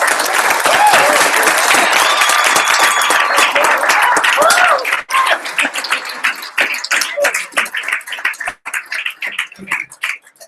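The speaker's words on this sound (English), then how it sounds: "So please give them another round of applause." Audience applause at a Startup Weekend pitch event in St George, a dense crowd clapping strongly for about five seconds, then thinning into scattered individual claps that fade out.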